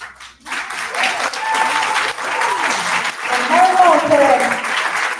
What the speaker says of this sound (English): So I want you to raise a cheer for Bethany.